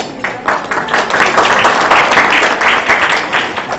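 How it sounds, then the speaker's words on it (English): Crowd applause at an Overseas Pakistan Trust opening ceremony, a loud, dense burst of clapping that swells quickly and holds steadily throughout. "his team deserves a round of applause"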